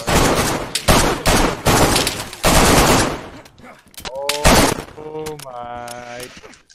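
Rapid bursts of automatic gunfire crackle loudly in a night-time video game raid on a fully geared bandit, dense volleys in the first half giving way to scattered shots and sharp impacts.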